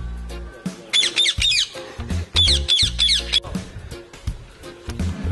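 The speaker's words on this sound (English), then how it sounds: "This is the alarm system bird." A bird known as the alarm bird at a nature village near a cave, giving repeated loud, harsh squawks in short bursts, close by, with no talk over it.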